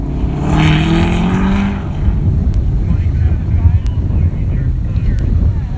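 A Corvette accelerates with tire spin in a rolling exhaust contest at Carlisle, its engine roaring with a rising then falling tone. Heavy wind noise and ongoing outdoor crowd and event ambience follow.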